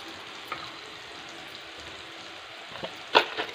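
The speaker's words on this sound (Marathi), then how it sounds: "हे पूर्ण परतून घ्यायचं आहे आपल्याला" Onion and tomato frying in a pan, giving a steady low sizzle with a sharp clatter of stirring near the end, close and moderately loud with no talking.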